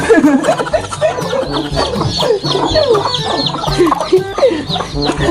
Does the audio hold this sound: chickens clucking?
yes